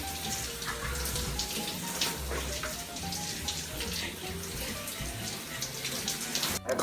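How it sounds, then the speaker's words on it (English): Running water from a shower pours and splashes in a steady hiss close by, with soft music playing underneath and a brief clatter near the end. "And you're showering."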